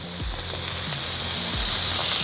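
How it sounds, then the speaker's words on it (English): Food sizzles on a non-seasoned, non-stick 21-inch Vevor commercial electric griddle, a constant bright frying hiss with a few low thuds underneath. "So we're getting some sizzle, which is good."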